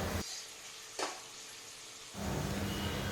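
Mutton 65 pieces, already boiled, deep-frying in hot oil until crisp, giving a steady close sizzle with a brief burst of louder crackle partway through that swells again toward the end.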